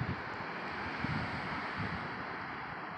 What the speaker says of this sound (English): The wind is probably 23 miles per hour today